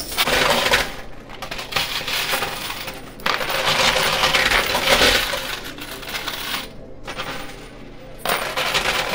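Coins dropping and clattering in a high-limit coin pusher arcade machine with a poker chip wall: loud metallic clinks and crashing cascades in bursts, close by, with brief pauses between, no talking.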